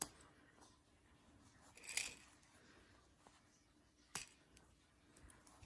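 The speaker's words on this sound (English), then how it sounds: "Then you'll just snip off the excess." Scissors snip yarn tails from a crocheted lion baby ring, with two quiet, separate cuts standing out against near silence in a close, still room.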